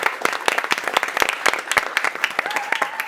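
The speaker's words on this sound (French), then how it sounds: "tonnerre d'applaudissements pour monsieur Kevin Lévy." Studio audience applause for a guest comedian on a French television talk show, a dense burst of clapping with sharp individual claps, fairly close and loud, with a faint tone near the end.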